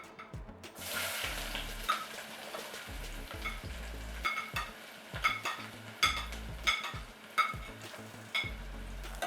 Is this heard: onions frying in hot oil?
yes